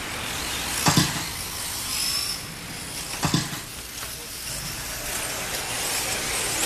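4x4 short course RC cars race around a track, with a buzzing, whining engine drone and a couple of sharper passes standing out from the steady hum.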